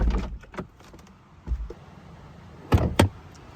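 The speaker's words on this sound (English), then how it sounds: "when you close the door, the window will go back up" Door of a 2021 Audi TT RS slams shut outside in the snow, followed by the electric window whirring back up, with a few softer thumps and clicks beforehand; two sharp, close impacts stand out near the end.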